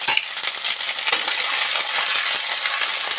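Ground cumin, coriander and chili powder fry in hot oil with ginger paste in a vegetarian okra dish, giving a steady, dense, close sizzle with faint crackles throughout and no talking.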